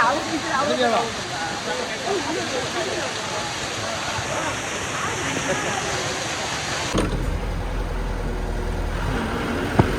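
Courtallam (Kutralam) waterfall roars as a steady, dense rush of falling water, loud and continuous, with people talking faintly over it before the sound shifts to a closer, deeper wash.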